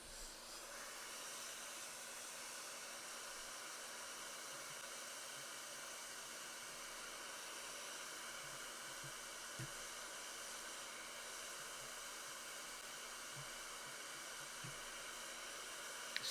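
A hot air rework station set to 400 degrees Celsius blows steadily on a chip on a failed hard drive board, giving a constant airy hiss with a few faint clicks, no talking.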